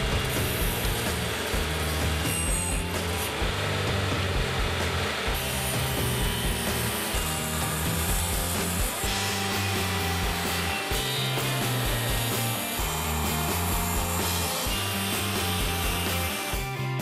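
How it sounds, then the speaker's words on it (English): Wood pieces are cut at an exact angle for a hand plane, guided by a miter gauge and stop block, in repeated rhythmic rasping saw strokes, steady and close, with no talk. "Cut the pieces for the hole of the blade on an exact angle."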